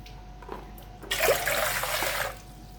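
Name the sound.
pouring hot water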